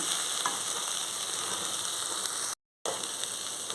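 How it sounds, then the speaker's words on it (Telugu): Tomato pieces sizzle and fry in a pan of eggplant and dried prawn curry, a steady close crackle that carries throughout except for one brief dropout. "ఇప్పుడు మనం టమాటీ ముక్కలు వేసేసుకుందాం"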